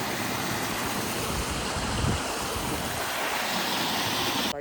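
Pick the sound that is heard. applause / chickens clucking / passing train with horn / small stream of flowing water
small stream of flowing water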